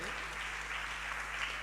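Audience applause during a Jain sermon by a muni, a steady, even wash of clapping filling the whole moment at moderate, distant level with no single claps standing out.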